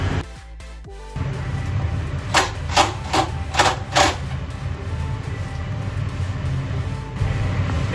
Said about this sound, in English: Now we're finishing up putting the screws in the base part of the bed